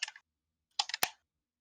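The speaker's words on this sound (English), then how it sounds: "I know it was like clicking sounds from one of you" Sharp clicks come in two bursts, a short cluster and then three quick clicks ending in a louder snap, with silence in between; no talk.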